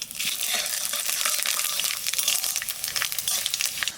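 Dried chilies and panch phoron whole spices hit hot oil with a loud, close sizzle, a steady bright hiss crackling with sharp pops and spits for a few seconds.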